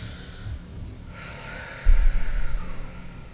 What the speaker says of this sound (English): Let's do the breath again.